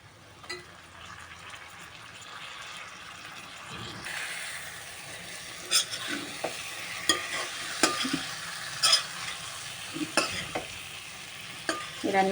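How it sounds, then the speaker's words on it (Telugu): Dry fish tipped into a simmering spicy curry in a pan and stirred through, giving a steady frying sizzle broken by repeated scraping clacks of the spoon against the pan, close and fairly loud, with no talking. "ఇవన్నీ చేపలు వేసేసుకున్నాం, ఇంకా మంచిగా కలిపేసుకున్నాము."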